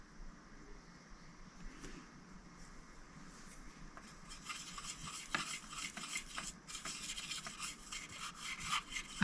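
A paintbrush scrubs watercolor pigment in a plastic pan, soft scratchy rubbing that grows busier and louder toward the end, close and alone.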